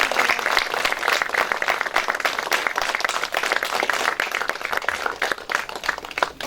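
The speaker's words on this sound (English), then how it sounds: "let's give them a thunderous round of applause" Audience of parents and guests at a Grade 8 school theater production of Anne of Green Gables gives a loud, sustained, dense round of applause that continues unbroken throughout.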